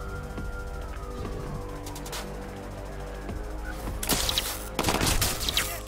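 Gunfire in the video game Watch Dogs 2, with scattered shots early on and a louder burst of broadband blasts near the end, set over steady in-game background noise and music.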